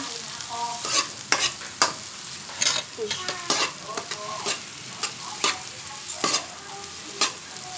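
Salted egg sautéed with tomato in a pan makes a steady close sizzle, broken by repeated sharp scrapes and clacks of a spoon stirring at an uneven rhythm, with no voices.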